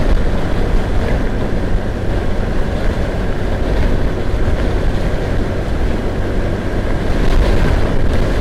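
Steady, roaring wind buffets the microphone continuously while riding a Honda Wave 110i 2022 motorcycle, a dense rumbling rush with no pauses and no voices.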